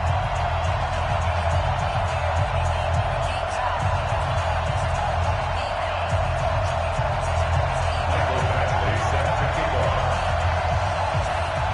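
A stadium crowd in the Madden NFL video game before a New York Jets versus Buffalo Bills matchup, a continuous roaring murmur with faint cheers underneath, steady and broad, with a commentator speaking over it.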